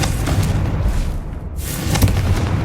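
Deep booming explosions from the Confringo fire spell in Hogwarts Legacy rumble loudly, one blast fading briefly before another heavy burst erupts near the end.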